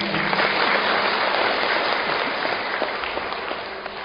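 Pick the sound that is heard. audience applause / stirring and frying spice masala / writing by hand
audience applause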